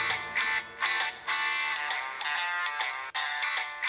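A mobile phone rings with an incoming call, a bright repeating electronic ringtone melody in rhythmic bursts, loud and alone with no talk.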